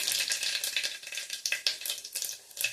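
Cumin seeds sizzling in hot oil, a steady close-up crackle with sharp little pops scattered through it, heard alone without any talk.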